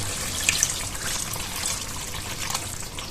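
A glass of water poured into a pot of lemon beef, a steady close splashing gush of liquid running for a few seconds without talk.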